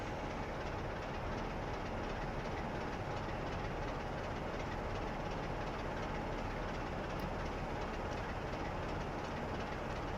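A train in a rail simulator game on the West Coast Main Line north route rolls slowly into a platform, giving a steady, dense rumble and rail noise that stays even throughout, with no voices.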